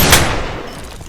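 A single sharp gunshot cracks loud and close, followed by a decaying echo over about a second.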